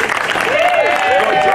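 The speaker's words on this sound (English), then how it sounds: "a grand cheer for Daniel" A festival audience at a renaissance fair show in Tampa, Florida, claps and cheers briefly, a dense burst of applause mixed with whoops and raised voices.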